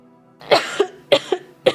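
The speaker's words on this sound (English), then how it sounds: "I apologize for coughing" Three sharp, close coughs in quick succession, each with a small follow-up rasp.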